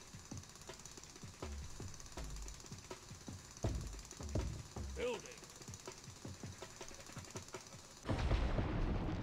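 Rapid mechanical drilling bursts of rock being drilled in Manic Miners, a Lego Rock Raiders fan-remake video game, hammer in short bursts, with scattered impacts and effects, ending in a louder rumbling blast.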